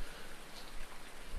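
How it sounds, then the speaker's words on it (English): Steady, soft rainfall on a rainy morning, a fine continuous patter of drops on surfaces, fairly faint and unbroken, with no voices. "a rainy morning here on Minibrunn"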